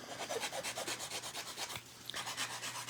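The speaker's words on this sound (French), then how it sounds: "je m'en viens limer" A nail file rasps across fingernails in quick, even back-and-forth strokes, close and fairly quiet, with one short pause partway through before the filing resumes.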